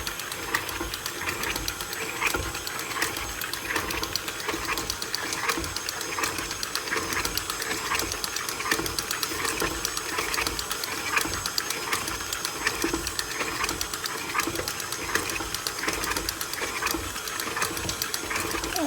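Electric hand mixer beating oatmeal raisin cookie dough at a raised speed, a steady whirring motor hum with a rhythmic churning texture that runs continuously and fairly close throughout, with no talking.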